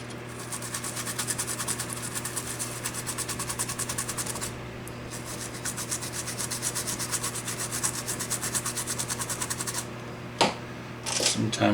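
Someone scrapes clean the chassis of a 25-inch K7400 arcade monitor, with fast, steady, rhythmic rubbing strokes close up for about ten seconds, then a pause and a few knocks.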